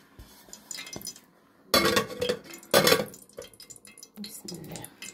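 A lid set down over a pot of rice in a home kitchen gives two sharp metallic clanks about a second apart, near and fairly loud, between quieter clinks and shuffling.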